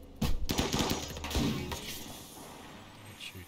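Gunfire in a video game: a burst of rapid shots and sharp impacts, fairly close, amid game action before the sound fades.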